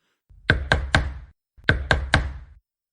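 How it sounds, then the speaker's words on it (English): Two bursts of three loud, close knocks bang on a door, with a short pause between the sets and no voices. "there was a bang on my door."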